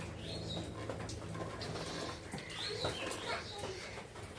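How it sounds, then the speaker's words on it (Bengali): Birds call in the afternoon at a spot where many perch, with soft cooing like pigeons or doves and occasional chirps over a faint background, alongside light human voices. "পাখির আওয়াজটা সুন্দর না?"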